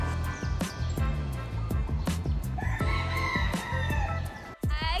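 A rooster in a small town on Oahu, Hawaii, lets out one drawn-out crow near the middle, set against a busy background of steady rhythmic clicks and low pulses, fairly close and clear.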